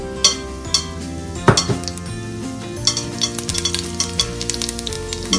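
Cumin seeds sizzling in hot oil in a pan, a close crackling fry punctuated by clinks of a metal spoon against the pot and a few sharper pops, with faint music underneath.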